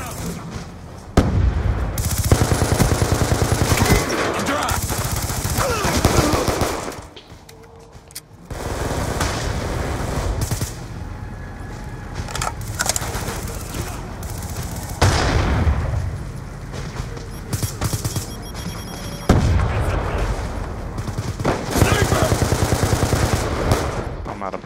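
Gunfire in a Call of Duty Black Ops 2 Domination match on the Detour map: loud, sustained automatic bursts with sharp single shots, pausing briefly before the firing resumes.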